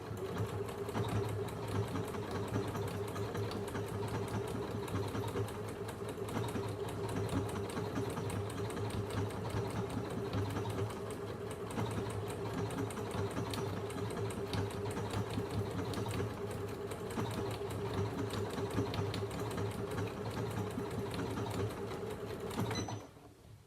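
A Janome Memorycraft 9900 sewing machine runs a decorative stitch, its needle clattering in a fast, steady rhythm, close and continuous for over twenty seconds before stopping abruptly.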